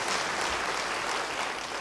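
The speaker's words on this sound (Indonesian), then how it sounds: "Beri tepuk tangan yang meriah bagi dia." A congregation at a church service claps together in a dense, steady wash of applause that holds at an even level throughout, with no voices on top.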